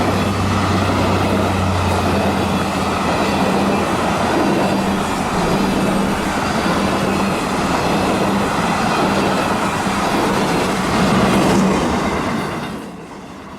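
A Ringling Bros. circus train of RBBX cars rolls steadily past a dirt road rail crossing, a loud continuous rumble and clatter of wheels that holds throughout, then drops away as the last cars clear.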